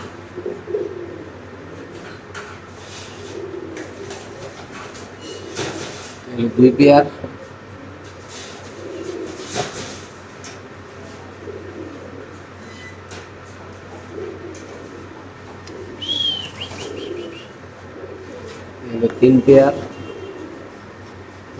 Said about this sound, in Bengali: খুব সুন্দর কবুতরগুলো দেখেন